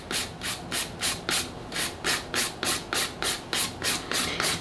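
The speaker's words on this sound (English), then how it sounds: "So now I've finished filing" Nail file rubbing back and forth over fingernails during a manicure, a steady run of about fourteen rhythmic, scratchy strokes, close and clear with no talking.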